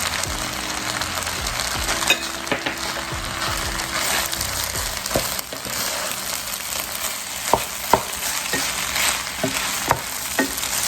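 Shrimp and bean sprouts fry in a wok of fried rice, a steady loud sizzle running throughout with occasional sharp clicks and scrapes of a spatula stirring.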